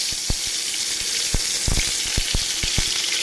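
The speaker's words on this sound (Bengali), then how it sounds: "তা প্রথমে আমি আদাটাকে একটু ভেজে নেব। আদাটা দিয়ে দিচ্ছি।" Ginger sizzling in a pan for a mixed rice, lentil and vegetable khichuri, a steady broadband frying hiss broken by sharp clicks and spatters of a utensil against the pan, close and continuous.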